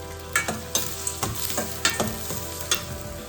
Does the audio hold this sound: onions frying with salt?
yes